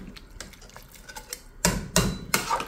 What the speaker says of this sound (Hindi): तो अब हम इसको अच्छे से मिक्स करेंगे और मिक्स करने के बाद मैं इसको कवर कर दूँगी